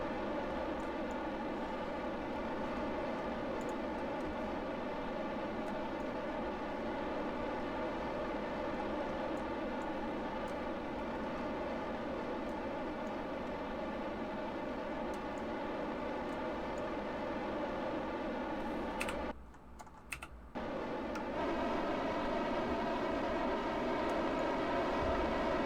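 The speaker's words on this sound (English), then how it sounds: "We have liftoff." A rocket engine in Kerbal Space Program roars steadily at liftoff, a loud, dense rumble that holds for the whole stretch. Near the end it cuts out for about a second and then comes back.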